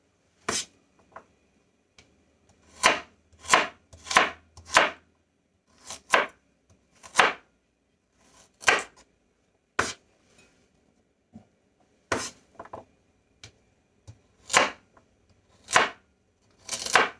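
A knife chops carrots on a cutting board into rough pieces for chicken broth, crisp isolated thumps in short irregular bursts with pauses between, close and clear.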